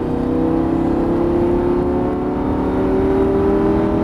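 Lamborghini Gallardo 530 hp on a track heard from inside under steady hard acceleration, a loud continuous engine whine with rising harmonic tones and no break.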